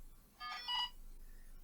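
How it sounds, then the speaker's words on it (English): A Vex IQ V2 robot brain plays a short electronic siren sound effect, a faint, brief two-tone beeping chirp lasting under half a second in a quiet room. "That was the siren sound."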